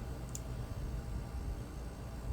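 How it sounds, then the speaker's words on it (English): A portable AC unit runs steadily in the background, giving a constant low, even whoosh that stays at one level throughout, with no voices over it. "that noise you hear in the background is my portable AC unit."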